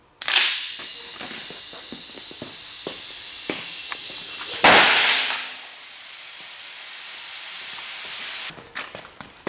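A pressurized water bottle bursts with one sharp, loud bang partway through, its cap blown apart, preceded by scattered ticks and a steady hiss that lingers after the blast before ending in a few clicks.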